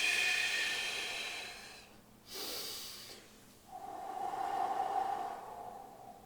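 Close, audible breathing during a stretching exercise: a long airy exhale, a brief sharp breath, then another drawn-out breath, with no talking.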